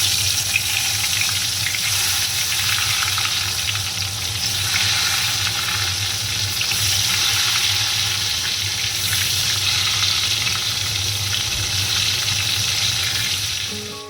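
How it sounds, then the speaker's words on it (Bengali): Salted, turmeric-coated eggplant slices sizzle steadily in hot oil, a loud, constant frying hiss that carries on without pause. "তো বেগুনটা ভেজে রাখবো"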